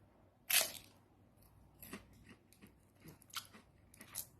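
Several sharp crunchy bites into cheese sticks, one loud snap followed by softer crunches spaced irregularly, close up with no talking.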